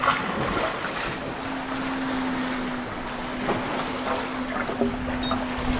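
A sailboat crossing the Atlantic at night toward the Cape Verde Islands, with steady wind and water rushing past the hull, a continuous moderate wash and a faint low hum running throughout.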